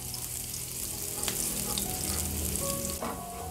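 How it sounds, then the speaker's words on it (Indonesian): Chopped vegetables cooked for a tofu dish sauté in a pan, a soft, steady sizzle with light stirring and a couple of faint utensil clinks, fairly quiet and close. "Kita tumis sampai setengah layu."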